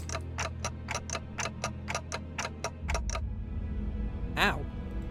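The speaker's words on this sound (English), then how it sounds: "Yep, ticking is all I can hear." A steady, regular clock-like ticking in the Limbus Company video game, about a dozen crisp ticks over three seconds before it stops, followed by a low hum and a brief sharp electronic swish.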